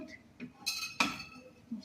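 A cooking pot set down on a stove to make barley porridge: a few light metallic clinks and one sharper clank, close by and quiet, with a faint voice in the background.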